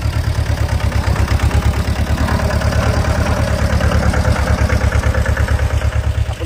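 A farm tractor's diesel engine idles close by, loud and steady, with a rapid, even low thumping and a metallic clatter throughout. No voices.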